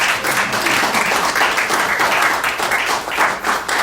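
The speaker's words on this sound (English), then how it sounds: "Hey, give yourself a round of applause." Audience applause after a workplace announcement of a $93,600 total benefiting hourly employees, a dense steady wash of many hands clapping at close range, sustained for several seconds without talk.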